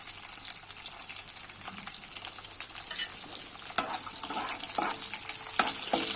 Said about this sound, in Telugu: తాలింపు గింజలు వేగిన తర్వాత అయితే తరిగి పెట్టుకున్న ఉల్లిపాయలు ముక్కలు వేస్తున్నాను